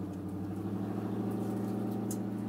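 A Ford 5.0 Coyote V8 swapped into a 1956 Ford F100 with 3-inch exhaust idles in a steady, smooth, low rumble that stays even and fairly quiet throughout, with no revving and no voices.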